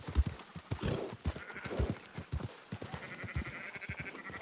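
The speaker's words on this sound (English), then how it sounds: "Merino sheep." Merino sheep in the video game Red Dead Redemption 2 bleat faintly among rhythmic hoof clip-clops and a busy herding scene, the bleats rising briefly in the latter half.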